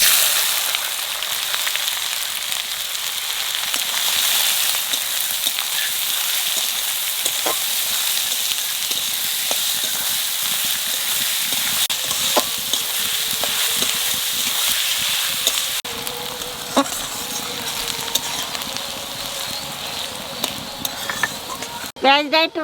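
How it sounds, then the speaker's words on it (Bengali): Onions fry in a pan with cumin and bay leaf for a Bengali mutton curry, a steady close sizzle running throughout with scraping stir strokes and occasional utensil clinks, no talking. "পেঁয়াজটা একটু ভাজেছি"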